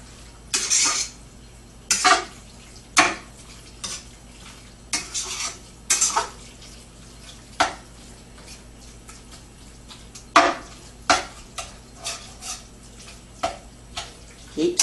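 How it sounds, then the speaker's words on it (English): Meat being stirred in a pan while it dries out, with a utensil scraping and clinking against the pan in irregular bursts over a low steady background hum. "Keep stirring."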